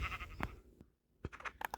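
Minecraft sheep bleat in a few short, close bleats mixed with soft game noises and a brief quiet gap.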